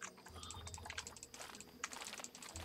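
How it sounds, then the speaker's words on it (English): Rapid computer mouse clicking while building terrain in a zoo-building game, a quick, irregular patter of light clicks, close and fairly faint, with no talking. "Again, I'm just sort of clicking rapidly"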